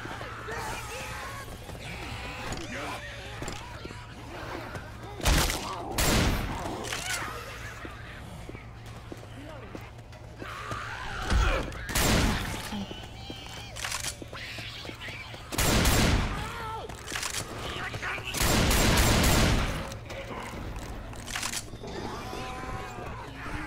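Gunfire in the zombie shooter Left 4 Dead 2, sharp loud bursts and single shots scattered across the clip, some in rapid clusters, over a busy background of movement and ambient game noise.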